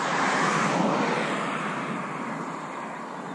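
Airplane flying by near Orio al Serio airport, a broad loud roaring rush of jet noise that peaks early and slowly fades, steady and alone without talk.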